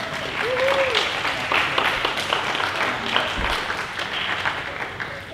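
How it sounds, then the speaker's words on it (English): Audience applause at a Hawaiʻi Review literary reading, with a steady wash of many hands clapping that carries on for several seconds and a faint voice briefly over it. "Can I get a round of applause?"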